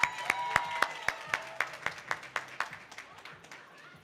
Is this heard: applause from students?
yes